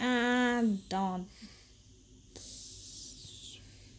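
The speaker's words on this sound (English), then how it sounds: "When I'm done with my red lipstick, I'm going to spray my face" Face setting spray hisses in a few short bursts from a mist bottle, close and soft, coming after a woman's brief spoken words.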